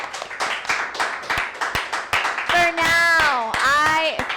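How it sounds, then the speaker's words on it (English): A few people clap for Ozzy, a club member, in a small group on a martial arts podcast, with sharp close claps at first, then cheering, whooping voices and a high excited shout over the clapping. "Round of applause for Ozzy."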